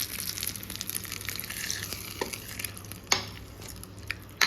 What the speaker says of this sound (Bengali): এবার আমি এই তড়কাটা দিয়ে দিলাম এই ব্যাটারের মধ্যে। ভালো করে এটা মিক্স করে নেব।